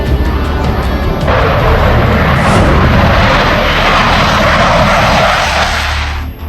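A Dassault Rafale fighter jet of the Indian Air Force flies past with a loud, sustained engine roar that swells and holds for several seconds before easing off, with no voices.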